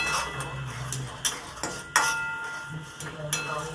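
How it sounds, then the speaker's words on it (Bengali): Semolina is stirred and dry-fried in a wok, with a metal spatula clinking and scraping against the pan in irregular close taps over a quiet background. "সুজিটাকে সুন্দর করে নেড়েচেড়ে ভেজে নেব"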